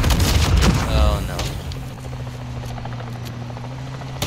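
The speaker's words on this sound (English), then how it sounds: "There's an enemy helo coming." An enemy helicopter in Call of Duty: Modern Warfare 2 hovers overhead with a steady low rotor drone, following an opening burst of gunfire and explosive booms.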